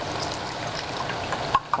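Water swirled out of a tomato sauce can and poured into a cooking pot of beef carne guisada, a steady close trickling pour with a couple of brief clinks near the end.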